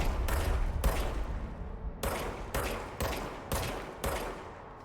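Bursts of gunfire in the video game Control, several loud sharp shots spaced about half a second to a second apart, each with a decaying tail, no talking.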